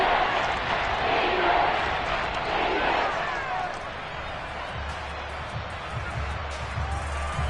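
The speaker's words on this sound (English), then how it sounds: "Crowd getting in it a bit already." Stadium crowd at a football game, a broad roar of cheering and noise filling the stands, steady and loud, easing slightly toward the end.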